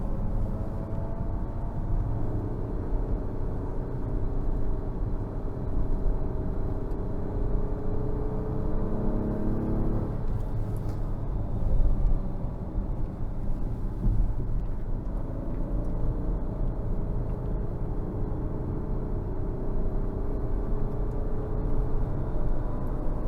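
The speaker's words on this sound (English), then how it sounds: "The sound of the V6 is pretty good, even with the piped in noise here." The V6 engine of a 2025 Acura MDX Type S hums as a steady low rumble while driving, heard from inside the cabin with road noise, moderately loud and continuous throughout, with no talking.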